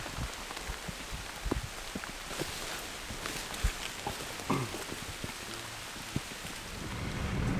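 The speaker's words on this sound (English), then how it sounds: "the rain finally got here" Steady rain falls on a surface in the Maine woods during a moose hunt, a dense, continuous patter with scattered louder drops and a few dull knocks, moderately loud and unbroken throughout.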